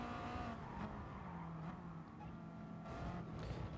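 A custom Subaru race car in Gran Turismo Sport drones with a steady engine note at low volume, joined by faint tyre noise and passing cars throughout, with no voices.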